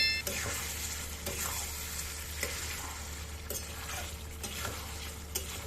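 Onions and salt being stirred in a frying pan, a steady sizzle with repeated scraping strokes of the spoon roughly every second, close and clear with no talking.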